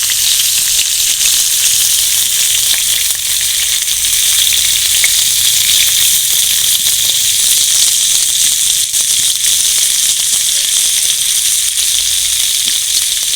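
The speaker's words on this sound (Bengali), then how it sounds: "একসঙ্গে তো সবগুলো দেওয়া যাবে না তাই আমি দুটো তিনটা করে দিয়েই ভাজবো" Chicken kathi kabab pieces fry in hot oil, producing a loud, close, continuous sizzle with a constant bright hiss and no talking.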